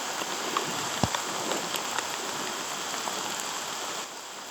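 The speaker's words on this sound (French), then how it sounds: "Une averse de plus." A steady rain shower patters and hisses on surfaces during a road trip in Finland, continuous and even with a few louder drops, heard close by.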